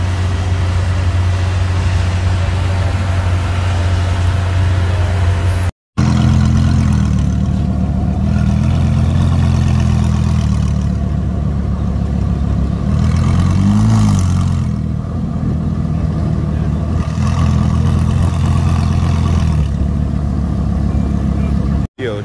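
A Lamborghini engine rumbles close by and then revs in a brief swell, with a deep steady drone throughout and people talking over it.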